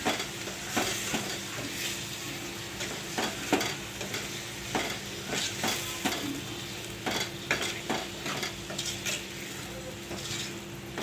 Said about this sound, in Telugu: ఇదంతా బాగా ఒకసారి కలుపుకుందాం.